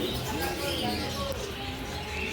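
A pair of pigeons, a common Spanish female and a male, coo softly and steadily at close range with faint chirps mixed in.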